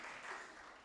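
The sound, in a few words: congregation clapping hands loudly in church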